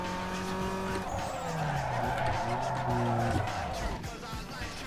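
Tires squealing through a burnout in the racing game NFS Underground 2, a steady loud screech over revving engine drone that swells and drops across the stretch, with engine tones sliding in pitch beneath it.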